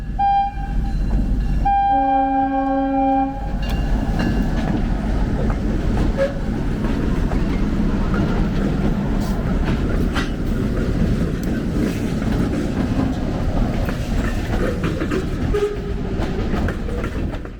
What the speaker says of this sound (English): we'll see our train slowly make its way down the last stretch of the Tazewell and Peoria.